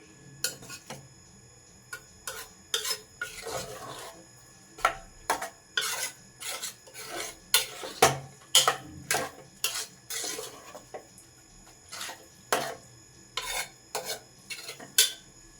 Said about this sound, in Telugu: పాలు పోసిన తర్వాత ఒకసారి ఇప్పుడు మంచిగా కలుపుకుందాం